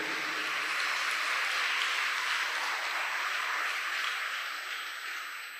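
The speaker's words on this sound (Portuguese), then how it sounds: "aplauda bem forte o Senhor" Loud, sustained applause fills a church service, a dense steady wash of clapping that holds for several seconds and eases slightly toward the end, with no talk over it.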